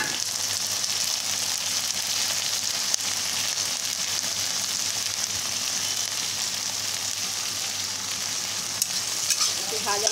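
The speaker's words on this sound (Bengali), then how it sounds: "পেঁয়াজটা এখন ভাজা ভাজা করবো, তবে টমেটোটাও দেবো।" Chopped onion and tomato fry together in hot oil in a pan, giving a constant, even sizzle with a faint hiss. A few soft scrapes and stirs sound over it, close by, and nobody speaks.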